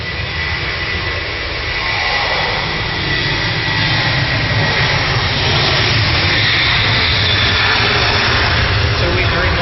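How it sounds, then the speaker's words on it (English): Jet airliners taxiing at Manchester Airport, a Dreamliner rolling out while a Virgin A350 pushes back, give a steady broad roar of engine noise with a low rumble, continuous and moderately loud throughout. "Dreamliner taxiing out, Virgin A350 pushing back"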